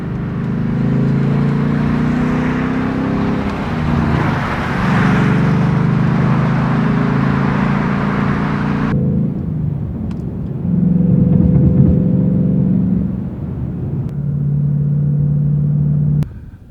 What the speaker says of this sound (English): let's go ahead and take a drive in the Mustang